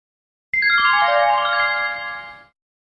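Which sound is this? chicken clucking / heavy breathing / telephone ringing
telephone ringing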